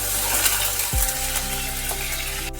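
Curry leaves and mustard seeds sizzle steadily in hot oil, a dense continuous frying hiss close up with a brief soft knock partway through and a faint clink near the end.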